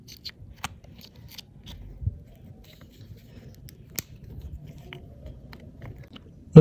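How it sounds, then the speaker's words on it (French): A used 9V battery is pried apart by hand, giving sparse sharp clicks, snaps and scraping crackles, close and fairly quiet, with one louder snap near the end. "Alors on démonte la batterie."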